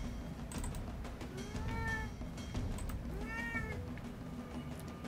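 A pet cat meows twice, two rising-and-falling cries a second or so apart, clear and fairly close over a quiet room hum.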